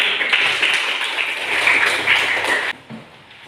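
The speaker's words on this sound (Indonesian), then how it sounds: "Ini kita tepuk tangan." A high-school classroom of students claps hands together in a dense, lively burst of applause lasting under three seconds, then stops abruptly into quiet room noise.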